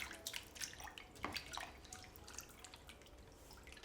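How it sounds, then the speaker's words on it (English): Cold water trickles and splashes into a pot of potatoes being rinsed of starch, a faint, uneven patter of drips and small splashes close by with no talk. "We're going to fill that up with cold water, give it a bit of a rinse to remove the starch."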